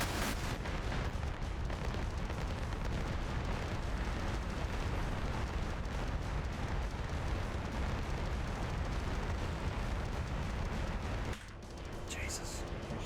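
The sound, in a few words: explosions in a flight combat video game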